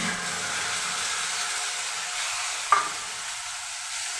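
Cumin, coriander and turmeric spice paste fries in oil with a steady, even hiss close up, broken once by a single sharp clink of a utensil, then settling back into quieter sizzling.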